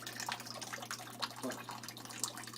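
Cooked spinach draining in a kitchen sink, a steady trickle and splash of water with small drips, moderately quiet and close, with no talking.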